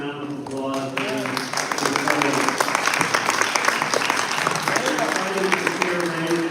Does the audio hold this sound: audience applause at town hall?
yes